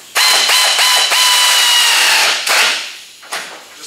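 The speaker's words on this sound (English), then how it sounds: "So I'm going to go ahead and tighten these bolts here up on the top." A handheld power tool tightens bolts on an Oldsmobile Cutlass Supreme under restoration, giving loud, close, high-pitched whirring bursts with short stops between them and a fading spin-down at the end.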